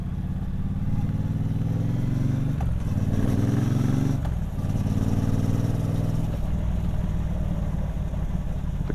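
A 2022 Triumph Bobber Goldline Edition's parallel-twin 1200 engine rumbles loud and close through twin exhaust pipes, a deep continuous throb that dips briefly and picks up again mid-ride.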